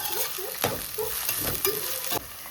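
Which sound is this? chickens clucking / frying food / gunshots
frying food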